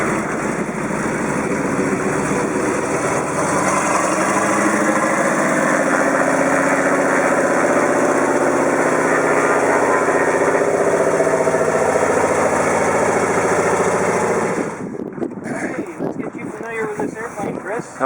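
An American Champion Scout 8GCBC floatplane engine runs at a steady idle for a long stretch, mixed with heavy wind buffeting on the microphone. The drone cuts off abruptly near the end, leaving a few rustles.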